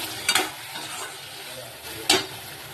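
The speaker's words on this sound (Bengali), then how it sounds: "ভালো করে 2 থেকে 3 মিনিট কষিয়ে নেবো" Two brief bursts of stirring and scraping onions and spices in a hot pan over a steady low sizzle, close by, with no voices.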